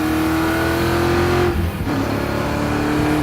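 A modified, scrap-styled Rolls Royce engine runs loud and close with a steady, droning note that dips briefly midway, then picks back up. No one speaks.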